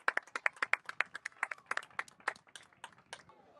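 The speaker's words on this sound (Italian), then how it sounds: "e applausi di tutti" A few spectators clap at an under-14 youth football match after a goal, with sparse, distinct handclaps in an uneven rhythm that thin out and soften toward the end, fairly faint and without talk.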